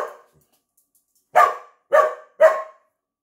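A dog barks, close and loud: the tail of one bark, a pause, then three short, evenly spaced barks with no talking.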